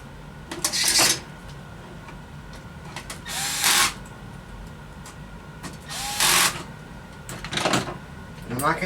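Screws are driven into a vintage 1990s Compaq Presario computer with a power driver, heard as four short whirring bursts spaced a few seconds apart against a quiet room.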